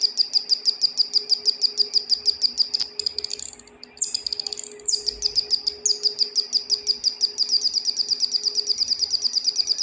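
A DIY electronic bird-sound circuit makes rapid, regular chirping that repeats steadily like a synthetic bird call, briefly faltering and shifting pitch midway before resuming loud and even.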